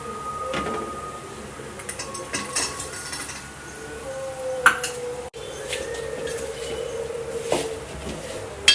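A spoon stirring mango murabba with jaggery in a metal pot, with irregular scraping and clinking against the sides, moderately close, with soft sizzling underneath.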